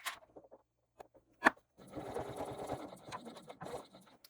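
A sewing machine running a basting stitch through layered bag fabric, a few light clicks and taps first, then a steady close mechanical whirring run of stitching that stops and briefly restarts.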